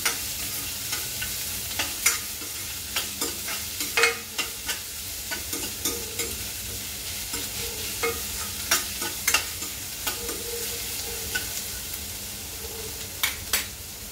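A ladle stirs frying onions in a pot, clanking repeatedly against the rim in an irregular rhythm over a steady sizzle, up close, with no talk.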